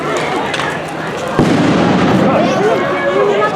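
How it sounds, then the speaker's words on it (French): A tear gas grenade launches with a sharp, loud pop amid a continuous roar of crowd noise and voices during clashes between students and police at a school in Ampefiloha. "ont conduit au tir d'une seconde salve de grenades lacrymogènes vers l'intérieur de l'école"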